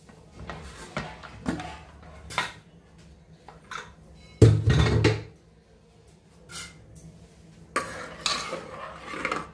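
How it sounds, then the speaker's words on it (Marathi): Metal pressure cooker of pav bhaji vegetables being opened in a home kitchen: scattered clinks and clatters of the lid and vessel, a louder metallic clank with a brief rattle near the middle, then more handling knocks. "चला आपण कुकर उघडून बघू आपली भाजी शिजली का नाही"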